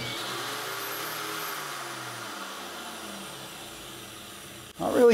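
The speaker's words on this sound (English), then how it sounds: "44 amps to run a grinder." Angle grinder running on power from a 2000W pure sine wave digital inverter, a steady loud whine holding throughout, then a sharp burst of noise at the very end.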